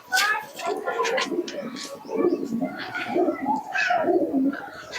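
Giribaz tumbler pigeons, flown in tournaments, coo in low repeated rolling calls close by, with busy chatter and voices mixed throughout.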